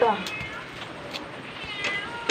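A house cat meows once, short and close, at the start, while a person talks nearby in a home kitchen.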